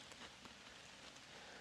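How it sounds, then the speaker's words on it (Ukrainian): A soft, steady patter of light rain, faint and continuous, with scattered drops tapping on surfaces. "Сьогодні дощик накрапає."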